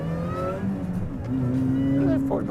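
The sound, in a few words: supercharged MINI engine and supercharger whine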